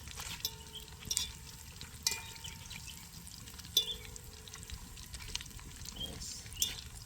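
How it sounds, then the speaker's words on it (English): Food fries in a pan over a campfire at an outdoor bushcraft camp, a steady soft sizzle with occasional clinks and scrapes of stirring. "See if we can let that fry for a little bit"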